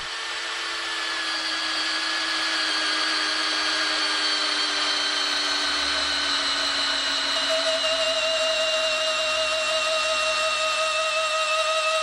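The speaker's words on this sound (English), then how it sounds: "drilling through this 10-inch thick tree stump with an Erbauer 20mm auger drill bit" An Erbauer cordless combi drill drives a 20mm auger bit through a 10-inch thick tree stump, making a loud, continuous whining motor drone whose pitch slowly shifts under load as the bit bores steadily into the wood.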